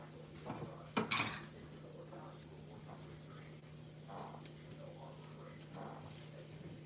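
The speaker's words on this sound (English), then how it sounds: "And now I'm gonna stir everything up." Shepherd's pie vegetables, including celery, stirred in a pan with a utensil: one sharp clatter early on, then faint scraping and light clinks, quiet throughout.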